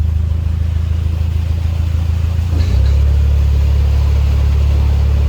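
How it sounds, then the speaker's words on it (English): A canal boat engine turns over and settles into a steady, loud low rumble that continues alone without voices. "start the engine."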